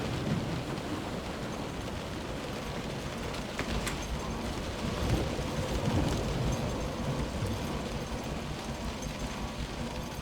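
Steady video game rain hisses throughout with low rumbling of thunder swelling midway, a continuous stormy backdrop with no voices.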